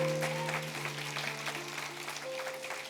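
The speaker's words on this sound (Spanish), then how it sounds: "Dale un aplauso al Señor fuerte," Faint applause from a church congregation patters beneath held organ-like chords, soft and continuous for a few seconds at a distance.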